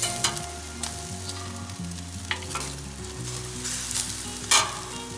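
Pork chorizo chipolata sausages spitting on a barbecue, a steady close sizzle with scattered pops and crackles and a louder burst near the end, with no voices.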